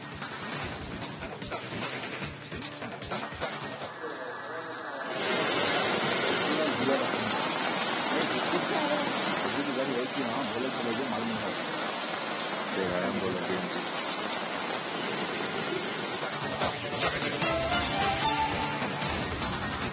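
Dense, steady rain pours down over Bengaluru in a loud, continuous hiss, with a quieter stretch at the start before the downpour swells.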